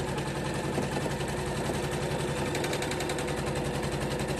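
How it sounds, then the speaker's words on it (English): An embroidery sewing machine stitches a quilted grid with a steady, fast mechanical whirring and rhythmic needle clatter, continuous and close throughout, with no voices. "we're gonna let the machine run the grid"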